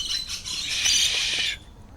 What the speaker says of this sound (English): Some sort of doves,